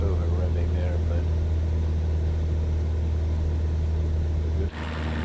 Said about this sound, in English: Time I touch my throttle, it seems to push it forward slightly and then over revving the aeroplane.